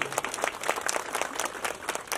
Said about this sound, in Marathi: मग एकदा त्यांच्यासाठी टाळ्या वाजूया आणि जोरात घोषणा देऊया